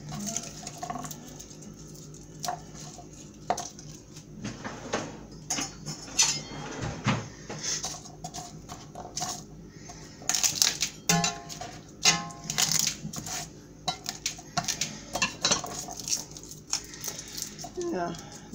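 Garlic cloves being broken up and mashed for a corned beef brisket: scattered taps, cracks and clinks against kitchenware, irregular and fairly close, with a voice now and then.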